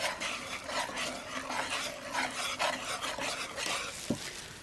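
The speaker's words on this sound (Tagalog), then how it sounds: "ihahalo natin itong ating milk. Okay. So, stir natin." Quiet, repeated scraping strokes of a utensil stirring milk in a bowl over a lit flame, soft and close, with a single light clink near the end.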